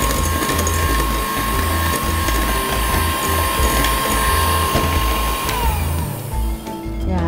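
An electric hand mixer whips egg whites with cream of tartar to stiff peaks, a loud steady motor whine with gritty rattling of beaters against the bowl, running continuously and slowing slightly near the end, with no talking.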